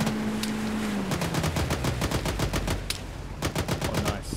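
Sustained gunfire in the military shooter Arma 3, a dense run of rapid shots with clustered bursts and an irregular rhythm, some louder and nearer, with no talk over it.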